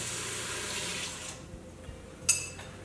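Water poured into an Instant Pot pressure cooker holding brown rice, a steady splashing stream that fades partway through, followed by a small clink, with no talking.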